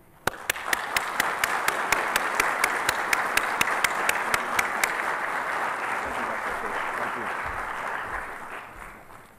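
Sustained applause from a large forum audience at the University of Maryland greeting a speaker, with a few sharp individual claps standing out at the start, the broad clapping dense and steady before tapering off near the end.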